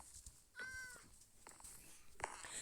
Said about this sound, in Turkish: O zaman biz de bir tane kedi çıkaralım.